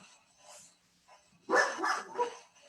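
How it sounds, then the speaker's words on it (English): A dog barks a few times in a quick, fairly close burst, with fainter yips or vocal sounds just before it. "Who's me? it's the dog."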